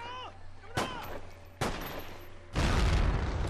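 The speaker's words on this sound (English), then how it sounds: "Grenade!" A grenade goes off in the World War II shooter Medal of Honor: Rising Sun amid a firefight, with sharp blasts and a heavy, sustained roar of explosion and gunfire closing the clip.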